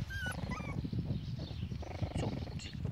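A young puppy, about four weeks old, gives high thin whimpers and yips in short rising whines at the start, then softer snuffling and low murmurs close to the microphone.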